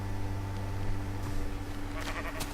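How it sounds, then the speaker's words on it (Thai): In Minecraft, a mountain goat gives a short bleat over a steady electronic hum, with a couple of quick sharper game sounds near the end. "ยังมีแพะภูเขาเยอะ"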